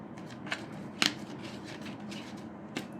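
Tarot cards being shuffled and handled, soft papery riffles and flicks with a few sharper snaps, quiet and close with no one talking.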